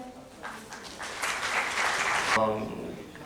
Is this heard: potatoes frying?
no